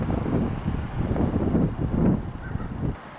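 Steady wind gusting and rumbling across the microphone, loud and close, swelling and easing over a few seconds.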